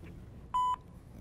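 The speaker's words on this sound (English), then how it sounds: "leave a message after the beep" An answering machine gives one short, steady electronic beep, pure in tone and lasting a fraction of a second, over a faint background hiss.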